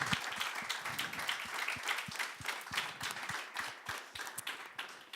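Applause from a small group at a public unveiling event, steady dense clapping over several seconds, fairly faint and even, with no talking over it.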